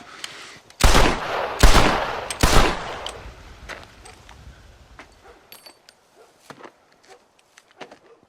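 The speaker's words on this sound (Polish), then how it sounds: "John oddaje 3 strzały w stronę mężczyzny" Three loud, close revolver shots ring out in Red Dead Redemption at roughly even intervals, each with a short echoing tail, followed by quieter scattered clicks and small sounds as the gun jams.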